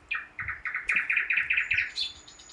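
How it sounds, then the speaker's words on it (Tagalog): A small bird chirps in quick repeated bursts, a steady run of bright calls at close range with no talking. "Parang ang laki ng ibon."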